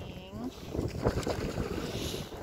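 Strong wind buffets the microphone beside a wild stream on a cold, blustery day, a steady loud rushing roar that continues throughout, with no clear talking.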